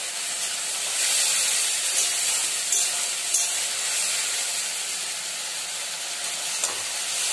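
Spices sizzling and spattering in hot oil in a home kitchen, a loud continuous bright hiss with small crackling pops throughout, close and steady with no talk.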